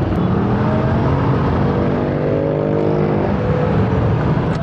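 Loud, close evening road traffic in Calamba City at night, a continuous rumble of car and motorbike engines with revving and passing vehicles, heard from a ride in slow-moving traffic.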